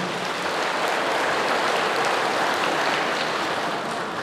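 A church congregation applauding, a dense uniform roar of many hands clapping together, loud and steady from start to finish with no individual claps standing out.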